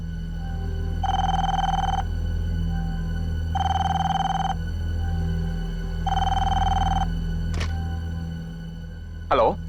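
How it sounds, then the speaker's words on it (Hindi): A telephone rings late at night in three long, evenly spaced bursts of a steady electronic bell tone, heard over a low background hum. "इतनी रात गई, किसका फोन है?"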